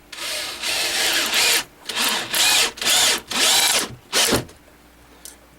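A power drill drives screws into wood in a series of loud, short whirring bursts separated by brief pauses, then the workshop goes quiet.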